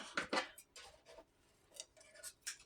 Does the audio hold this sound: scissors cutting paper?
yes